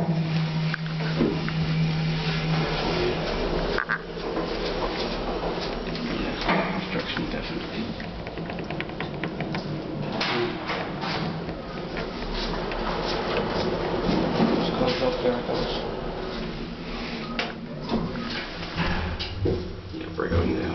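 A KONE EcoDisc elevator under construction creaks and squeaks while moving, with scattered squeals and scraping over a steady mechanical hum, and people talk nearby throughout.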